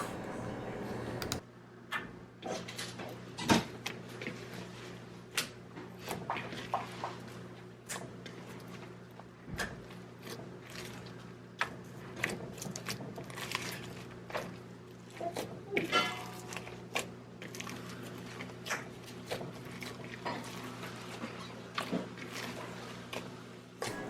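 Foaming hand soap is worked into slime in a sped-up mix, giving quiet, rapid squishing and clicking sounds close up, with no voices.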